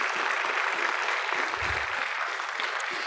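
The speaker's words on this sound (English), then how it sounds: "Could we give them a round of applause?" An audience at a community college presidential inauguration claps steadily, a dense, even wash of applause that holds at full strength for about three seconds.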